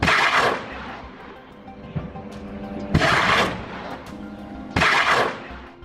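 Rockets fired at the Israeli army near the Rafah border crossing land as three loud, heavy booms, each with a broad rumbling tail, echoing across a wide open area with no voices.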